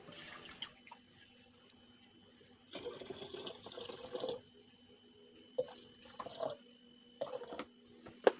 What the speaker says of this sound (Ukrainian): Заливаємо малину холодною водою, не доливаючи доверху.